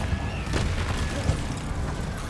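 A Confringo blasting spell detonates in Hogwarts Legacy as a dense rumbling burst with a few sharper cracks, loud and continuous through the moment.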